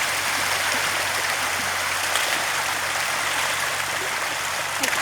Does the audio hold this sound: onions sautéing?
no